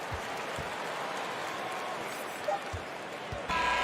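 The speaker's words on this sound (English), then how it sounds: "Please give a big round of applause." Basketball arena crowd applauds, a dense steady clatter of clapping at moderate level with some crowd murmur, continuing throughout.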